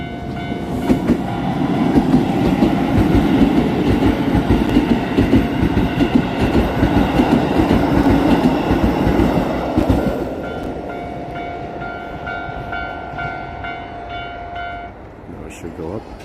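A train in Japan pulls away from a station with a rising rumble and rhythmic wheel clatter, loud and close, then fades as a sustained tone and a high chime ring out. A voice talks briefly over the noise.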